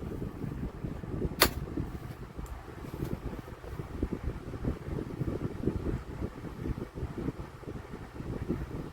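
A Ku Hsing table fan runs at full power with a steady, low whooshing rush of air and faint motor hum, continuous and even, with one brief sharp tick near the start.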